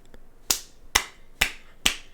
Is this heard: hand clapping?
yes